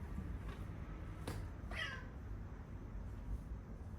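A cat gives a single faint, brief meow indoors at a distance, heard alone over a low steady room hum.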